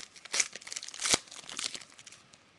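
A Panini basketball trading card pack's plastic wrapper being torn open close up, with crisp crinkling bursts and two sharper ripping peaks amid continuous rustling, no voices.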